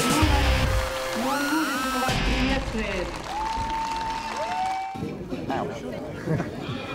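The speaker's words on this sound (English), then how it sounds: "listen to the applause" Crowd applause at a big jump event after a rider's crash, a broad steady wash of clapping mixed with loud announcer and crowd voices, a short whooping rise near the start and a held cheer later on.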